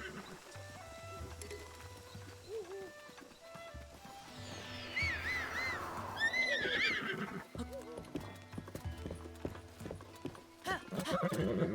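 Horse galloping in The Legend of Zelda: Breath of the Wild, with steady rhythmic hoofbeat clip-clops and a loud whinny partway through, set against background game music.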